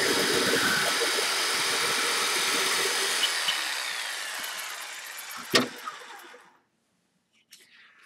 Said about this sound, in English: Using the jigsaw again,